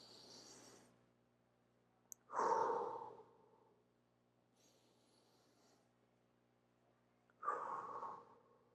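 Deep diaphragmatic breathing demonstrated by one person: two slow, audible breaths close to the mic, each a long airy exhale, separated by quiet pauses with faint breathing between.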